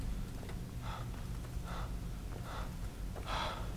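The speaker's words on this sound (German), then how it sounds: "Aber er atmet auch immer so." Heavy, rhythmic breathing from a character in the video game Skyrim, four or five faint gasping breaths spaced evenly over a steady low background hum.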